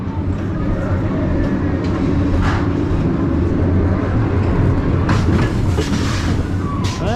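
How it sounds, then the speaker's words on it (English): A roller coaster train at Parc Astérix in France running along its track, a steady loud rumble and rattle from nearby, with brief squeals and rushing swells near the end. "You can't beat it when you're on a coaster and see another train running around."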